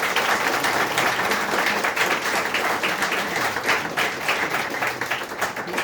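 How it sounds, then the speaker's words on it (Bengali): An audience at the Go Diamond Summit event in Darjeeling breaks into sustained applause, loud and close, a thick unbroken wash of many clapping hands. "হাততালি হয়"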